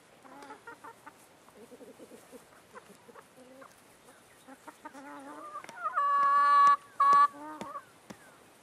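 Chickens cluck in short bursts while jumping up for bread held above them, the calls growing louder and more insistent toward the end, with faint voices in the background.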